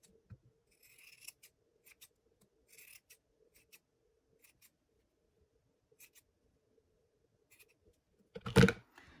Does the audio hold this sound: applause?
no